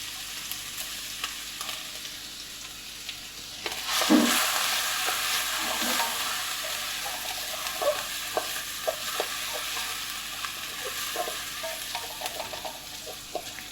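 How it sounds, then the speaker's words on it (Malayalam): Chopped garlic and ginger fry in coconut oil. The sizzle starts softly, surges when the ingredients go in around four seconds, then stays steady with scattered clinks and scrapes from stirring. No one speaks. "അതിലേക്ക് എടുത്തു വച്ചിരിക്കുന്ന വെളുത്തുള്ളി, ഇഞ്ചി അരിഞ്ഞത് ഇട്ട് മൂപ്പിക്കുകയാണ്."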